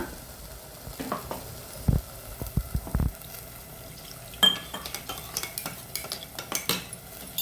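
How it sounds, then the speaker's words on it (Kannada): Silver fish curry masala being stirred in a pot with water added, giving scraping spoon strokes against the metal, soft wet sloshing and a faint sizzle, with no talking. "ಸೊ ಇದಕ್ಕೆ ಇನ್ನು ಸ್ವಲ್ಪ ನೀರನ್ನು ಹಾಕ್ಕೊಳ್ಳೋಣ"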